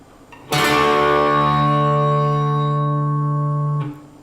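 A single guitar chord is struck and rings out clearly for about three seconds before being cut short, with no voices.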